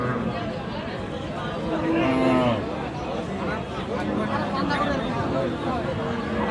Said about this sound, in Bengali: হাটে অসংখ্য গরু আছে